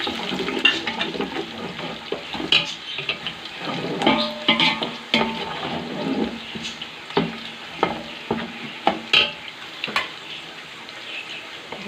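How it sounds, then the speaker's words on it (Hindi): Whole spices and cumin stirred into onions frying in a pot for chickpea pulao: sizzling oil with repeated scraping stirs and clatters, close and fairly loud, no voices. "अब इसके अंदर हम खड़े मसाले डालेंगे और ज़ीरा डालेंगे और अच्छे से हिला लेंगे।"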